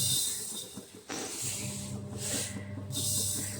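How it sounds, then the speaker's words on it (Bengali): White mustard seeds fry in a hot pan with a steady, close sizzling hiss that dips briefly a few times and then returns. "সর্ষেটাও একটু কমই ভাজবো, বেশি ভাজবো না"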